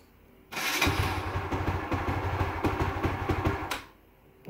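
A Honda CS1 motorcycle engine starts and runs for about three seconds, a close, loud, rapid chugging idle that then cuts off, leaving quiet.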